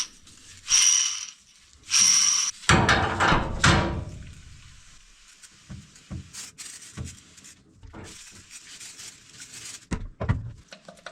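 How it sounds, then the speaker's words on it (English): A hammer drives a bearing into a Kirovets tractor. Several hard metallic blows ring out, followed by a scraping, grinding stretch and then scattered knocks and taps spread across the clip. "All I needed was a hammer."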